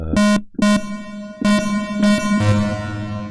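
Plogue Chipsynth C64 synth plays bright, buzzy chiptune notes in short bursts with Cathedral reverb, each stab trailing into a long, washy tail before the next one cuts in.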